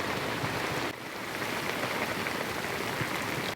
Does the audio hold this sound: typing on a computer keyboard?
no